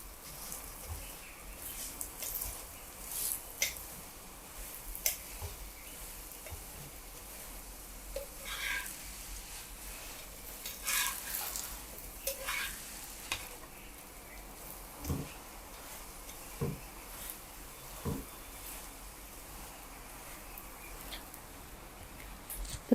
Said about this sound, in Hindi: अब इसको चारों तरफ से अच्छे तरीके से हम गोल्डन फ्राई कर लेंगे।